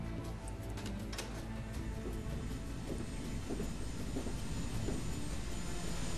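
Airplane flying in the video game Medal of Honor: Warfighter, a steady droning engine rumble with faint ticking and rattling on top, loud and continuous throughout with no talk.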